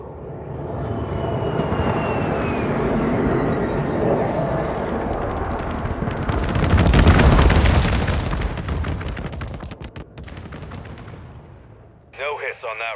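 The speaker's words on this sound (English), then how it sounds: "Vulture 6-1, inbound for bombing run." Stealth bomber bombing run in Modern Warfare II, a rising roar of aircraft overhead building into a dense barrage of booming explosions and crackling gunfire, then fading, with a voice briefly heard near the end.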